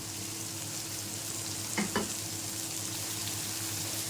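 Brinjal, onion and tomato fry in a pan, with a steady, close sizzle and a brief double clatter of stirring partway through.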